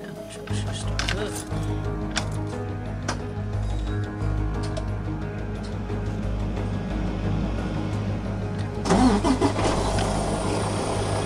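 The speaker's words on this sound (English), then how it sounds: "when I get in this truck, it should start up and there should be no issues" A semi truck's engine turns over and catches, then settles into a steady low rumbling idle that swells near the end, with a faint voice in the background.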